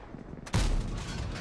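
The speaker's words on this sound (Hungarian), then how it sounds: "Az egy epic lövés volt, igen." A single loud, sharp gunshot blast during a video game battle, cutting in abruptly after a quieter stretch of background game noise and leaving a sustained rumbling tail.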